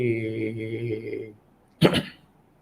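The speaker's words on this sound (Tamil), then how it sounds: "பாடும்போது இருமல் வருது" A voice sings a sustained tune, breaks off, and after a brief pause one harsh cough bursts out.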